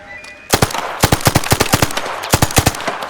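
Gunfire in the video game Arc Raiders: a close, loud burst of rapid sharp shots in quick rhythmic volleys, roughly a dozen cracks over a few seconds with brief pauses between groups.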